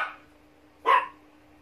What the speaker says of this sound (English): Somebody's just arrived, so the dogs are going a little bit crazy